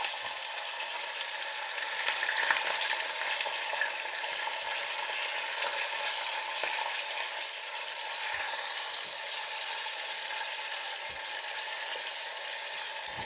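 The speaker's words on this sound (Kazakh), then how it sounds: "Етті қатты отта жиі араластыра тұрып, ет барлық сөлін бөліп, ол сөлін тартып алғанға дейін қуырамыз." Thinly sliced beef frying in oil in a pan over high heat while being stirred often, a steady close hiss of sizzling with occasional soft scrapes and taps.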